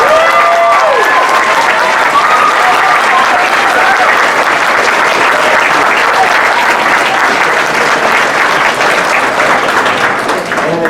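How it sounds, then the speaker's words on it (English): An audience at a middle school orchestra concert applauds loudly and without a break, a thick wash of many hands clapping that holds steady for the full length before easing slightly at the very end. "get a rousing round of applause"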